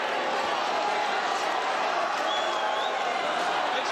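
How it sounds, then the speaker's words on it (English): Boxing fight crowd roaring steadily throughout as one fighter pins the other on the ropes late in the eighth round, a dense continuous wall of cheering with a faint whistle rising briefly above it. "just listen to the crowd."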